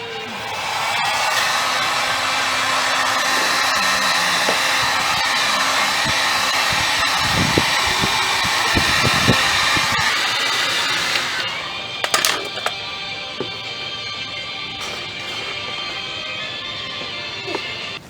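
Steady, close whoosh of a heat gun blowing on a RAV4 body part to soften it for bending, with occasional knocks and handling clatter before the airflow drops away near the end.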